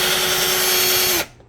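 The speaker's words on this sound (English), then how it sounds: "now he's going to drill that down" A power drill driving a screw into a desk whirs steadily at high speed for about a second, then cuts off abruptly, leaving near silence.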